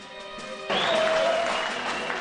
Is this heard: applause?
yes